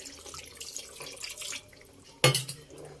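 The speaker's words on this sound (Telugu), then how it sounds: "ఇప్పుడు వాటర్ పోసుకుందామండి" Water is poured into a pan of bommidayilu fish curry being cooked in a thick iguru style. A soft running splash comes first, then a sharper gush of water a little later.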